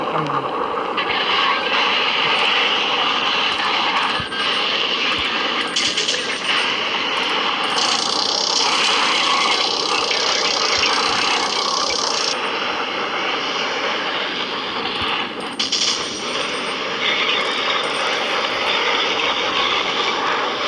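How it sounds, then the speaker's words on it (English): Warplane engines in the Modern War Planes video game give a constant loud roaring drone that stays steady for the whole stretch, with shifting whooshes and rumble layered on top. "Two planes that are nearby me."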